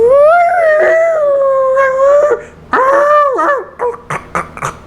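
A human voice imitates whale noises with long, wavering, rising and falling moans, followed by a few short, choppy calls, close and loud with no other sound.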